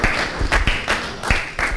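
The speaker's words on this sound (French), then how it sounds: "Nous applaudissons pour Maman Sylvie au nom de Jésus." Applause from a church congregation at an honorary titles ceremony for women servants of God, a fairly loud, steady patter of many hands with a few stronger bursts of claps over a couple of seconds.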